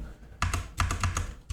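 Typing on a computer keyboard, a short burst of crisp close keystrokes after a quiet moment, about eight taps in quick rhythm.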